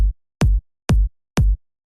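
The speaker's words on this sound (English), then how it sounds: "I got a 4 to the floor kick pattern right here" Four punchy electronic kick drum hits in a four-on-the-floor house pattern in Logic Pro X land evenly on each beat, deep and booming with short tails, alone and close.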